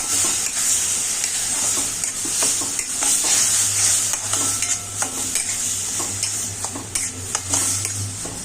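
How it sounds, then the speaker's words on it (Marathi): A spoon stirs grated cucumber into roasted rice semolina in a hot pan, scraping steadily and rhythmically against the metal over a soft, constant sizzle, with close clicks and taps throughout. "त्याच्यामध्ये मी आता हा काकडीचा जो मी खिसला आहे तो त्याच्यामध्ये मिक्स करणार आहे."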